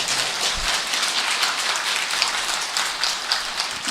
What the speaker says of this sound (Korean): 이럴 때는 박수를 쳐서 분위기를 바꿔요.